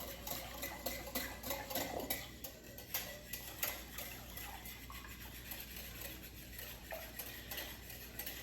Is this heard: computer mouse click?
no